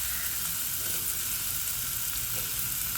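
Tomato pieces sizzle and fry steadily in a hot pan for egg curry, a continuous loud crackling hiss with no voices.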